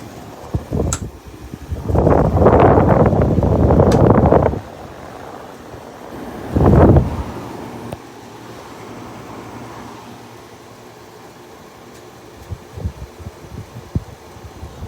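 A Frigidaire 5000 BTU window air conditioner kicks on with loud rattling, whooshing bursts of fan noise, a second short surge, then settles into a lower, steady hum with a few light knocks toward the end.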